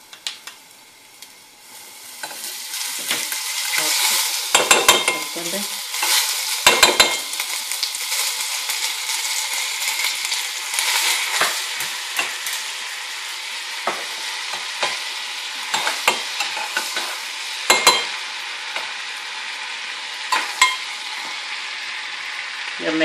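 Butter sizzles in a pan tempered with asafoetida for whole masoor dal, a loud continuous frying hiss broken by sharp stirring scrapes and clinks of a spoon against the pan.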